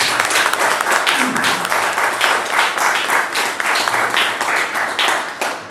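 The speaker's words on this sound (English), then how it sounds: "let's hear a little round of applause for Chris" Audience applause at a Hall of Fame induction ceremony, a steady dense round of clapping from a crowd filling the room, loud and continuous throughout.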